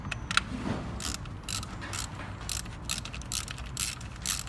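Ratchet wrench working bolts on a 2013 Kia Sorento during a spark plug change, giving close, quick bursts of rapid clicking separated by short pauses, with no talking.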